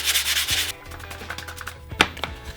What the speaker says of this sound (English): These little sandpaper sponges are super useful for cleaning stuff up.